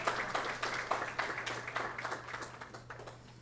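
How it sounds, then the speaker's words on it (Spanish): Faint applause from an audience at a Spanish-language panel discussion on autism welcomes a speaker named María Fernanda. A patter of soft, somewhat distant claps runs over a steady low electrical hum and gradually thins toward the end. "Un aplauso, por favor, para María Fernanda"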